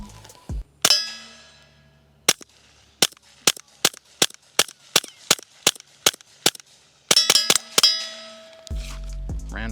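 A Taurus pistol fires 36 grain hollow point rounds in a string of about a dozen sharp, quiet cracks with metallic clangs, spaced fairly evenly, then a quick cluster of shots near the end, each short and close with little echo.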